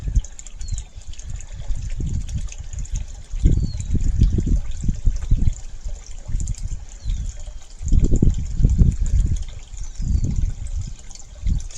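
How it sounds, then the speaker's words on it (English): A toilet flush during a flow test runs as a low, uneven rush of water that surges and fades in waves, steady and fairly loud, with no talking. "This is flush number 8."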